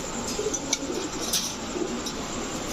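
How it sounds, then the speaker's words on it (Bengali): Female Putul Gorra pigeons give soft, intermittent coos against a constant hiss of background noise, with no voices over them. "এটাও হচ্ছে আপনার মাদি কবুতর"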